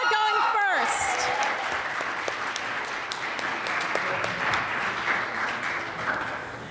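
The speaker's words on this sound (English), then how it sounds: "Another round of applause." Audience applauding at an open mic night, a dense crowd clapping that holds steady for several seconds before tapering, heard right after a voice finishes speaking.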